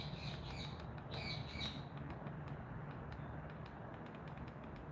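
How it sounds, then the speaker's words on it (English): Pet parrots squawk in a few sharp bursts in the background indoors, fairly faint over a low steady room hum, followed by softer chirps. "sorry for the noise in the background. I have parrots."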